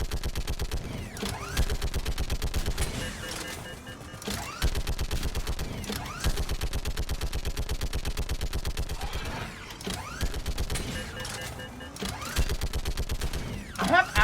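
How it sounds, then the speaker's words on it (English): Sustained gunfire from allied squad members in a Mass Effect 3 firefight, rapid automatic bursts rattling almost continuously with brief pauses, loud and close amid mechanical game effects. "I have allies shooting"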